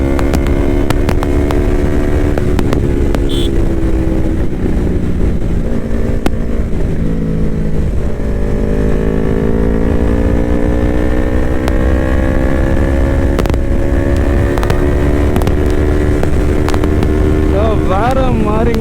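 Yamaha YFZ-R3 motorcycle pulling hard at speed, its engine note rising steadily through gears with constant wind rush over the microphone; a voice speaks intermittently over the ride.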